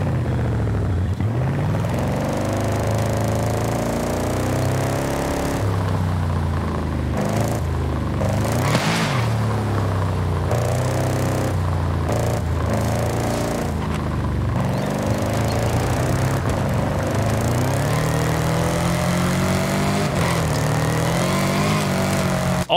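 A Lexus LC 500 in Forza Horizon 5, tuned to 844 horsepower, revs its engine up and down in repeated rising and falling sweeps, loud and close, with no talk over it.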